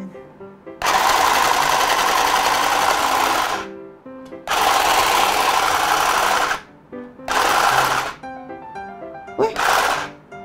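A troublesome sewing machine runs loudly and close in four bursts of rapid stitching, the first two long and the last ones shorter, with brief pauses between them.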